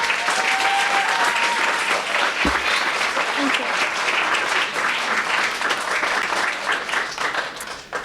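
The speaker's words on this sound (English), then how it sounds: "So why don't you give your kids a round of applause." Sustained audience applause for junior fire academy graduates at a graduation ceremony, many hands clapping steadily and fairly loud for several seconds, with a brief spoken word and a soft thud partway through.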